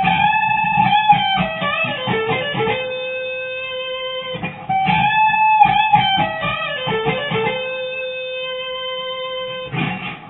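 An electric guitar plays phrases of a solo: sustained, ringing notes with slides and pull-offs, grouped into runs separated by short pauses.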